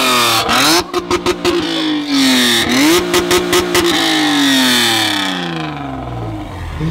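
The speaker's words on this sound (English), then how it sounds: "Are you gonna rev it?" A right-hand-drive Spoon Honda NSX sports car engine revs loudly several times through its exhaust, sharp bursts of throttle rising and falling, then settles toward a lower idle rumble; no talking.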